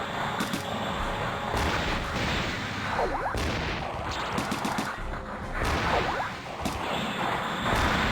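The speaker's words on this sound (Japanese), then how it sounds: "爆発音がする" Rapid bursts of explosions and gunfire in the FPS game Mobile Suit Gundam Side Story 1: Senritsu no Blue, loud and continuous, with whooshing sweeps layered throughout the whole stretch.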